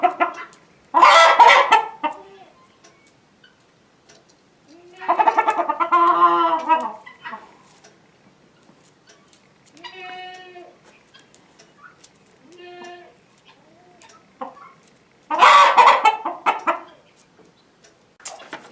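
Chickens cluck in several short bursts with quiet pauses between, close by and fairly clear, with no talk.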